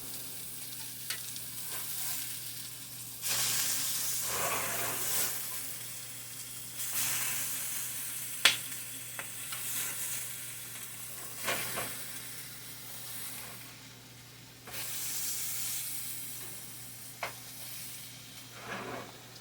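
Meatloaf burger patties sizzle and crackle steadily in a covered frying pan, a continuous hiss with small pops and occasional louder spits rising and falling over about twenty seconds, with no talking.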